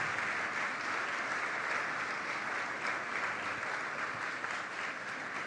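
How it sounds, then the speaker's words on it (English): Sustained applause from a large audience at a conference opening ceremony, a dense even wash of clapping holding steady from start to finish with no voices over it. "Please, a resounding round of applause for our special guests of honor."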